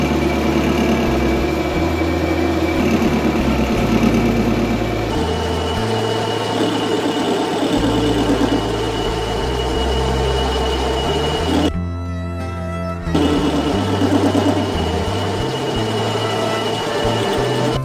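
A lathe cutting a billet crankshaft for a 150cc engine runs with a steady, loud mechanical hum and tonal whine, shifting pitch a few times, with a short harsh burst of cutting noise near the end.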